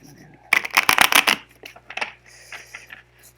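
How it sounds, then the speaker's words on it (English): A deck of cards is shuffled by hand: a dense, loud riffling burst of rapid crackling snaps lasting about a second, followed by softer, scattered card handling sounds. "I shuffled these cards before, maybe one more shuffle."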